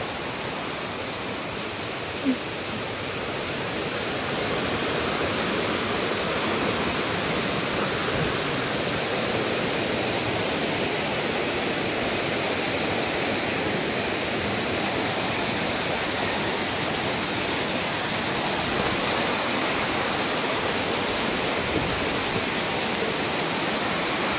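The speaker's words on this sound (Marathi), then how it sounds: "तर मित्रांनो हा बघा सावतकडा धबधबा" Savatkada waterfall near Marleshwar roars as a dense, steady rush of falling water, loud and close, continuing unbroken for over twenty seconds with no voices.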